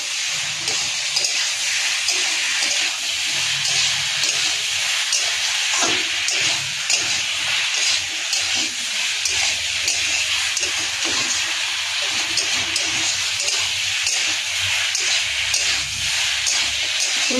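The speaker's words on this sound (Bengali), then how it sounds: "এই যে কচুর গাঁটি, বেগুন, আলু একসাথে দিয়ে এখন ভালো করে এটাকে কষাবো" Taro, eggplant and potato sauté together in a hot pan, giving a loud, continuous hissing sizzle with faint stirring scrapes underneath.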